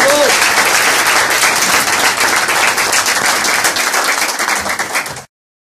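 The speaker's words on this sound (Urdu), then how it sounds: "آئیے اس کے لیے زوردار تالیاں بجائیں۔" Loud, dense applause from an audience at a Christian evangelistic gathering, a steady roar of many hands clapping together that holds for about five seconds and then cuts off abruptly.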